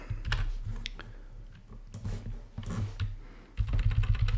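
Keys clacking on a computer keyboard as a command is typed into a terminal, a run of uneven close clicks over a low hum, with a denser burst of keystrokes toward the end.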